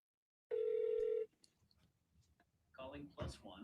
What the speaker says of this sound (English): Hey Siri, dial